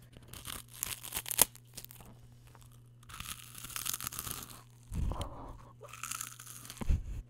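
Crisp crunching bites of a small brittle rice cake, close and quiet, in a few bursts with pauses between, under a low steady hum.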